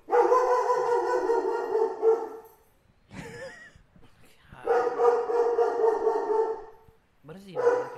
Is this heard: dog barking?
yes